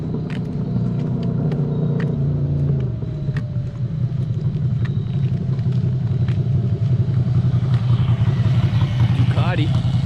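A Ducati motorcycle passes on a road near a trail, its engine a steady, loud rumble with a falling tone early on and a brief rising whine near the end.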